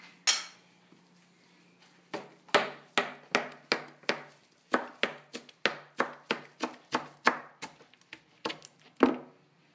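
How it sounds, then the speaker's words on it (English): A knife chops parsley on a cutting board in a fast series of sharp, close knocks after a brief quiet start, with the rhythm steady at first and then uneven. "Wash it, then we're going to chop it up"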